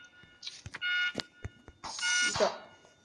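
An alarm in the horror video game Stickman Survival 2 sounds in two sustained bursts, mixed with clicks, thumps and a speaking voice.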